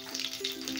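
Curry leaves dropped into hot oil with popped mustard seeds for tempering, a close, bright continuous sizzle and crackle that swells in a few bursts over under a second.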